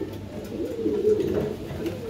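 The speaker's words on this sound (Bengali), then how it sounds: "এই এক জোড়া পাকিস্তানি টেডি কবুতরের বাচ্চা" Pigeons, including a young pair of Pakistani Teddy birds kept for sale, coo softly at close range in low rolling throaty calls, a few overlapping phrases with no talk.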